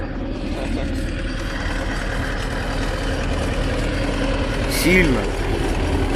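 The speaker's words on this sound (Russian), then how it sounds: "А вот трактор." A tractor engine runs steadily outdoors after a fishing trip, a continuous low idling rumble close by, with people talking over it.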